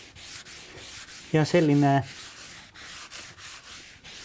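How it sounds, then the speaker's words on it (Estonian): Sanding dust being wiped or swept off a lightly sanded concrete floor, a steady soft rubbing and brushing texture throughout, interrupted midway by a short spoken phrase. "Siin ma pühin nüüd selle kerge lihvimise tolmu ära."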